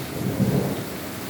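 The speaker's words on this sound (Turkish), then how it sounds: "Adana'da çok güzel bir yağmur yağıyor." Steady rain hisses throughout in Adana, Turkey, with a low rumble of thunder rolling beneath it in the distance.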